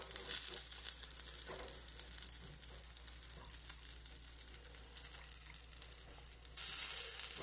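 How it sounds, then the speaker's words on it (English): Scrambled eggs cooking in an oiled pan for classic French scrambled eggs, a faint steady sizzle with light crackles and soft stirring scrapes under a low hum. "So we're standing here stirring"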